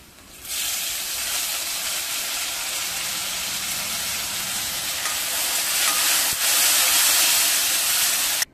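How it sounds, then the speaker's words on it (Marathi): Onion and tomato for shahi matar paneer sautéing in a hot pan, a steady loud sizzle and hiss that starts abruptly and holds, swelling slightly toward the end. "आता आपण त्याच्यामध्ये टोमॅटो छानसा परतून घेऊया।"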